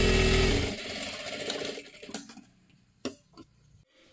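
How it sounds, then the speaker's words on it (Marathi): A sewing machine runs in a steady fast whir while stitching a sleeve seam, then stops about halfway through, leaving a few quiet clicks and handling taps. "इथे आपल्याला दोन्ही बाजूने थोडीशी शिलाई मारून घ्यायची आहे, ह्या सुद्धा बाजूला त्याच पद्धतीने।"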